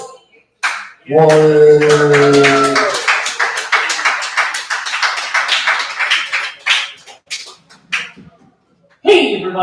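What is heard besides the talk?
open mic audience clapping for a comedian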